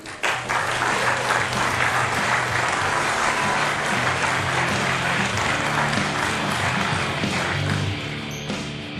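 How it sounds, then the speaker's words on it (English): A crowd applauds at a press event on new food policy, dense continuous clapping that stays loud and full for nearly nine seconds before tapering slightly at the end. "Can we get one more round of applause"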